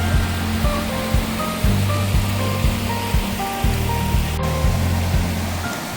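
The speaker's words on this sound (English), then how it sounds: "Another stream crossing." Steady rushing water of a mountain stream on the Tour du Mont Blanc, broad and constant, with a faint repeating tonal pattern running underneath.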